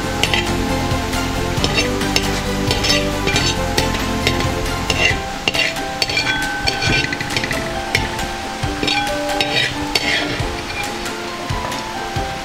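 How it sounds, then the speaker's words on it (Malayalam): Fish for fish biryani sizzles in a frying pan while being stirred now and then, a steady crackle of hot oil broken by scraping and clinks of the utensil against the pan. "അപ്പോൾ നമ്മളൊന്ന് ഇടയ്ക്കിടയ്ക്ക് ഇങ്ങനെ ഇളക്കിക്കൊണ്ടിരിക്കണം."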